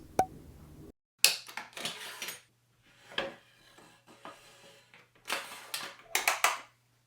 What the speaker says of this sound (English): Drilling countersinks and driving the screws.